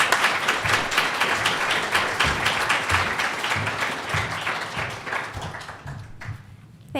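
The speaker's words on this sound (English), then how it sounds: "Big round of applause, everybody." An audience claps at a literary fiction event in a public library, dense continuous applause that stays steady and then thins out toward the end.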